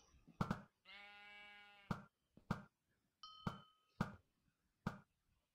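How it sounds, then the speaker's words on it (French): A sheep bleating in a Minecraft-style video game: one long wavering bleat among sharp, repeated hit and click sounds, plus a brief ringing chime. "Petit mouton."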